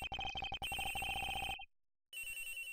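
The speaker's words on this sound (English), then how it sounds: "It sounds like the phone is up in the flight attendant's room." A cell phone rings in the Ace Attorney Investigations video game, a rapid trilling electronic ring in quick bursts that cuts off for about half a second and then starts again.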